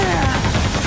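Rapid bursts from the chaingun in Quake II: a quick, dense string of loud, close shots fired in a tight rhythm over less than a second.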